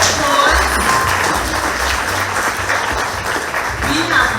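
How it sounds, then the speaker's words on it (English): An audience applauds award recipients at a civic awards ceremony in a city auditorium, with dense, steady clapping filling the hall and voices mixed in. "Let's give them all another round of applause"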